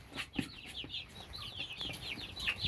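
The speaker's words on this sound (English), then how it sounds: "It's another rooster." A young rooster, offspring of a Barred Rock Silkie mix, clucks and chatters steadily nearby, with more fowl calling underneath in a busy poultry tent.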